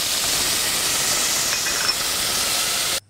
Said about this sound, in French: je vais juste mettre les trompettes dans une casserole avec de l'huile chaude pour les cuire